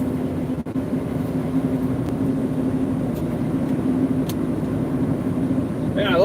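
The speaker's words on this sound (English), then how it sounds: "Man, I love this truck." A big truck drives along a road with a steady low engine drone and continuous road rumble from inside the cab, a voice speaking over it.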